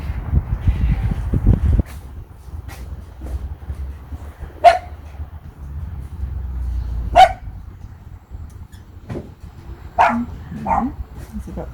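A dog in an indoor room gives a few sharp, separate barks spaced several seconds apart, loud against a quiet background with low murmuring voices early on.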